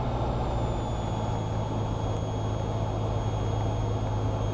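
Steady, even drone of a Cessna 172R piston engine throttled back to 1500 RPM in flight, a constant low hum with faint high whine, unchanging throughout and ending in a brief click.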